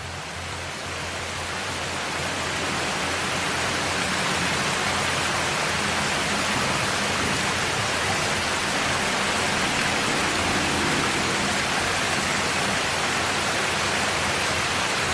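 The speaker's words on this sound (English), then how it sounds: "Birth of a waterfall." A waterfall sends a steady, broad roar of rushing water that swells slightly at the start and then holds constant and loud throughout, with no voices.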